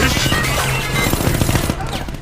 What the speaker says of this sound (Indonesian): Nemo dan Dr. Jekyll terlibat baku tembak dengan pasukan M yang dipimpin oleh Dante